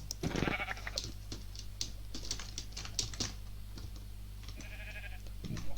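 Soft bleats of a sheep in Minecraft sound twice, at the start and again near the end, over constant keyboard typing and a low electronic hum.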